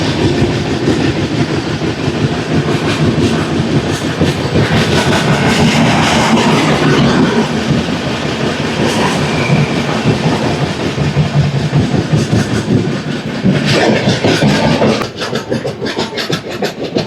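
Godavari Express train between Hyderabad and Visakhapatnam running near 110 km/h, a loud continuous roar with rhythmic clickety-clack of wheels over rail joints, heard close from inside the coach with no talk.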